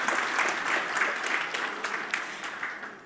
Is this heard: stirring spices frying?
no